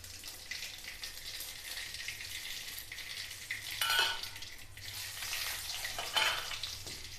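Mustard seeds and fenugreek seeds spluttering in hot oil while tempering for a tamarind kuzhambu, a steady close sizzle with a few sharper crackling bursts partway through, no talking.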